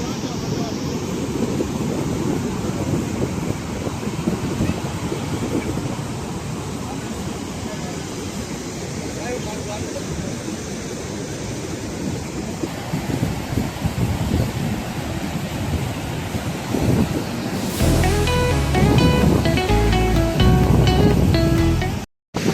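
Water gushes through two open gates of the seven-gated Galadhara Khodiyar dam as a broad, steady roar mixed with wind buffeting, swelling louder and harsher near the end before cutting off.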